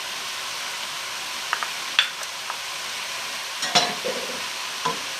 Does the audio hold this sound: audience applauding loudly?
no